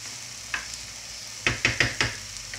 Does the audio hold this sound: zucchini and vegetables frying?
yes